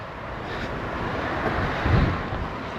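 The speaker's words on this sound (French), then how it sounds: "le vent de malade." Strong wind roaring beside a motorway while hitchhiking, a steady dense rush with a low swelling gust near the end, fairly loud and close, no talking.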